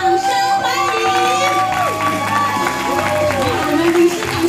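At an awards ceremony for a university and high school indigenous-language song competition, the audience cheers and claps to welcome the award presenter. The crowd noise is loud and continuous, with voices and tonal sounds mixed in.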